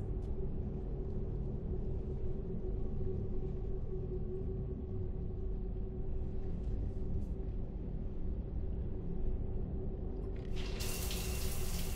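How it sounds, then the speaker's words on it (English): A shower runs steadily in the Mass Effect 3 video game, a constant rushing wash of water close by with a low rumble beneath it, unbroken throughout, a brighter burst of spray rising near the end, and no talking. "I figured you'd be more interested in a shower."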